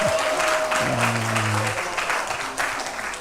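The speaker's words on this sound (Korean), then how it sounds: "이렇게 딴 데 가면 이럴 때 박수도 합니다." An audience in a university chapel applauds for a gayageum performer, a broad wash of clapping with a brief low tone sounding underneath near the start.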